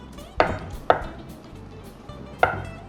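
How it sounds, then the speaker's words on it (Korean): A knife dices a block of tofu into cubes on a cutting board, landing three crisp, close chops with uneven gaps between them and quiet moments in between. "두부 한 모를 먹기 좋은 크기로 깍둑 썰기를 해주실 겁니다"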